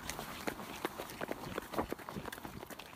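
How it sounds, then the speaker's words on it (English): A person runs, footfalls thudding in a quick, fairly even rhythm at moderate distance, faint and slightly muffled, with no clear speech over them. "it's the sound of her running"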